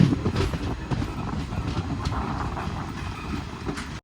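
Villupuram Intercity Express train running through hilly country, a steady close rumble of wheels on rails with faint rhythmic clicks throughout, heard from on board without talk.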